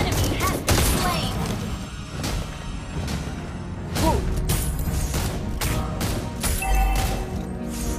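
Bursts of gunfire from the hero Granger in the mobile game Mobile Legends: Bang Bang fire in rapid, repeated volleys. Game effects, impacts and some voice lines mix in with the shots throughout.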